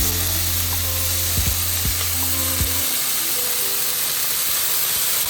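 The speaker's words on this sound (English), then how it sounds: "seared that side of the chicken. I am just turning this over" Chicken searing in a pan gives a loud, dense, continuous sizzle with a low mechanical hum and a few clicks early on, no voices over it.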